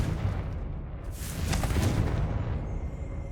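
A Confringo fire spell in Hogwarts Legacy bursts into a rumbling explosion with a crackling blast in the middle, loud and close, then fading.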